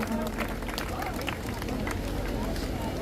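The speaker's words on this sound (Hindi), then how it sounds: "आपकी तालियों की गड़गड़ाहट ही जो है इस कार्यक्रम की शोभा बढ़ाएगी" Applause from a crowd at a village honour ceremony in Chhajiawas, Mahendragarh, steady clapping and babble that runs throughout the clip, with a voice speaking over it.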